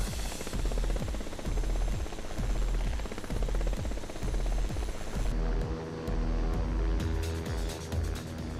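A Westland Lynx helicopter in Flight Simulator X, its rotor beating in a steady, loud, rapid thumping rhythm with engine whine layered on top, continuous throughout with no talking.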